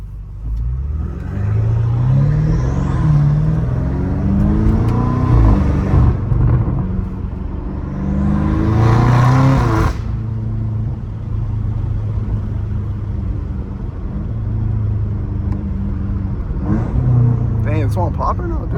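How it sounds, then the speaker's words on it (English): A turbocharged BMW M5 Competition with a catless exhaust revs hard and rises in pitch repeatedly, a loud throaty roar with a whooshing turbo whistle, while people talk over it. "You can hear the turbos like crazy."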